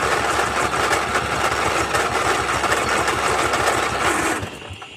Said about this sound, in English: Let's see if it'll start on its own now without taking some type of additional help.